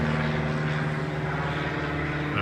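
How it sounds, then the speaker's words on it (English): An airplane at an airport gives off a loud, steady engine drone with a sustained low hum and broad rushing noise, heard close and unbroken throughout. "There's the plane I'm taking."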